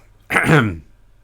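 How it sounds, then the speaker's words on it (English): A single short, gruff throat clearing, close and fairly loud, stands alone against quiet background. "apart from clearing my throat naturally there"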